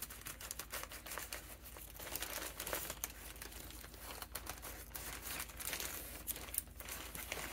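A plastic shipping bag is cut open up close, giving quiet, continuous crinkling and rustling with small snips and tearing sounds, faint and without talk.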